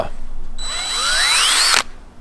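A power drill with a 5/16 bit bores a pilot hole in an archery target stand, a close, loud whine rising steadily in pitch for about a second before cutting off abruptly.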